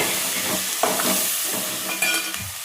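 Cut potatoes with turmeric fry and sizzle in a pan, a steady loud hissing with occasional stirring scrapes nearby.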